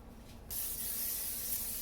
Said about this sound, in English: Spray it just so that our cinnamon rolls do not stick.